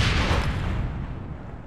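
A shot from a whisper pistol in the online game APB Reloaded: a booming report that decays over the short moment, loud and close, with no talk over it.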